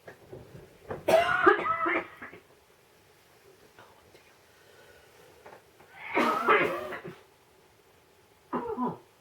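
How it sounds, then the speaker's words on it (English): A person coughs in harsh fits after choking: two loud, rasping bursts a few seconds apart, then a shorter cough at the end, with near-silence in between. "after I've choked, I'm back"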